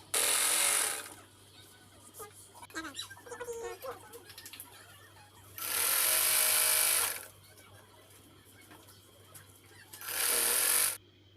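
Sewing machine stitching the hem of a pair of short pants in three bursts, at the start, middle and end, with quieter fabric handling and rustling between them and a steady low hum underneath.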